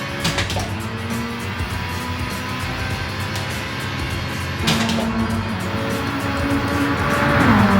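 Race car engine in Gran Turismo on PS5 drones steadily throughout, loud and close, with sharp shifts and a rising rev toward the end.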